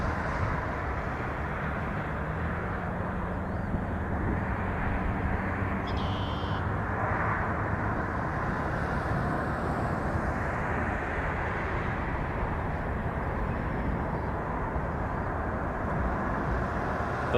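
Gulfstream G200 Galaxy business jet approaching to land at Toronto Pearson, a steady broadband engine roar held at constant level throughout, distant and unbroken, with no voices.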